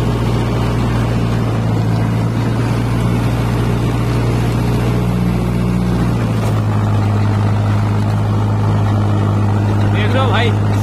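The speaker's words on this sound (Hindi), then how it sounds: "देख लो भाई 250 RPM ट्रैक्टर ने ड्रॉप कर दिया।" Arjun Novo 605 tractor engine labouring steadily while driving a rotavator in hard ground, a loud continuous low drone whose pitch drops partway through as the load pulls the revs down, with a voice speaking over it.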